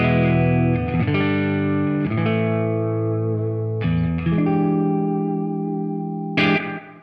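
A clean electric guitar plays sustained chords with the fuzz pedal bypassed, each chord ringing out loud and long before the next is struck, about five changes in all.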